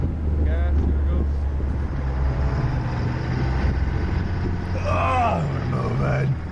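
A 2020 Duramax 3.0 diesel truck pulls a trailer uphill on grass, its engine a steady low rumble throughout with wind buffeting the microphone, while someone talks over it.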